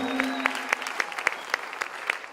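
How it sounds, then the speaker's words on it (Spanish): Audience applause at a panel forum, a sparse, regular clapping with distinct individual claps spaced evenly, fairly soft and steady over a light room background. "vamos a dar un aplauso igual"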